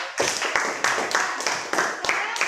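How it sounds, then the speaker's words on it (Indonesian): A class claps for a poetry group's performance, a steady run of close, crisp handclaps from many hands lasting a couple of seconds without pause. "Berikan aplaus untuk kelompok."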